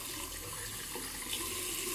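Water runs steadily from a tap into a shaving bowl to lather shaving cream, a continuous even splash and hiss with no talk.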